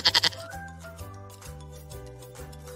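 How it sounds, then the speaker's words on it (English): A goat gives a quick, loud, quavering bleat of several rapid pulses at the very start, followed by a light children's music tune. "goat."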